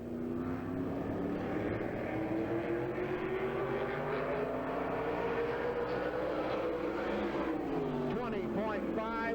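Sprint car roaring around Hagerstown Speedway, a dirt oval, during time-trial qualifying in 1995, a steady loud engine drone whose pitch climbs and sags through the turns, with an announcer talking over it.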